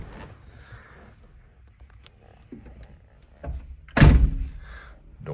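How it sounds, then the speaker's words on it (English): A 1978 Datsun 280Z door swings shut with a single solid, heavy thunk close by, after a few seconds of quiet shuffling and light movement noise. "Doors shut nice and soundly."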